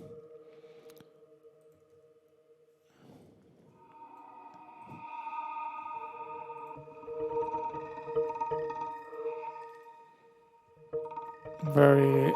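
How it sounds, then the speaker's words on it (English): Synth pad atmosphere from an audio sample run through reverb and a grain delay, giving sparse sustained tones that swell and scatter into grainy fragments, rising to a bright burst at the end, with no talk. "Let's maybe add also a"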